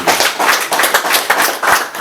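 An audience at a genocide survivors' Umuganura harvest celebration in Rwanda claps loudly in short rhythmic bursts, sharp hand claps repeating close by without talk.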